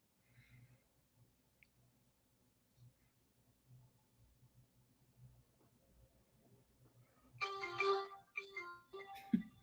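A phone ringtone chirps in a few short, bright bursts near the end, following a quiet stretch of low murmur during a casual chat about a movie.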